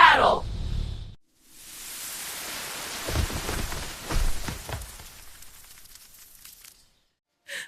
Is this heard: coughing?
no